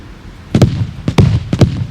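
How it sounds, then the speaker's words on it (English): Celebratory fireworks shot into the air in the video game Stalker Reforged, several sharp booming bangs in quick succession with brief rumbling tails, loud and close. "And we got the fireworks."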